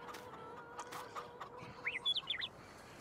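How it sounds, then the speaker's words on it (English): Outdoor chickens give a few bright clucks and chirps near the end, faint and at moderate distance, over a soft background with scattered knocks. "Let's see what kind of chickens we got outside."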